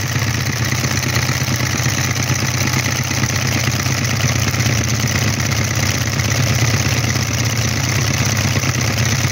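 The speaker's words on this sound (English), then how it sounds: "The engine runs too fast when it does that, and it doesn't pump properly." A model Stirling engine with a leaking water pump runs too fast, giving a loud, continuous, even mechanical whir and hum without pause and with no talking.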